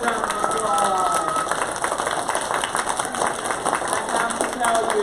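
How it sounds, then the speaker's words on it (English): An audience at a third grade school play applauds in dense, sustained clapping that fills the room, with talk mixed in throughout. "Give them a nice big round of applause."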